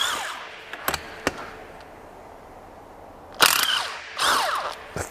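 A ratchet works loose the rocker cover bolts on a Honda GX160 engine, with a few sharp clicks early on, then two longer bursts of close ratcheting separated by quiet pauses.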